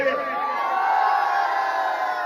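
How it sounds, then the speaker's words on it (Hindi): A crowd at a devotional bhajan program cheers together in a sustained, droning roar of voices that holds steady and fairly loud throughout. "जरा शोर बजा के बताओ मेरे भजन कैसे लगे"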